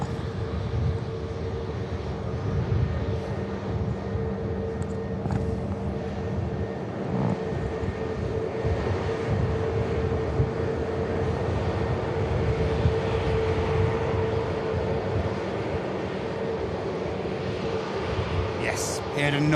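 A heavy airliner rumbles at an airport, a broad, steady engine roar with a sustained tone holding throughout at moderate distance, while a voice talks over it now and then.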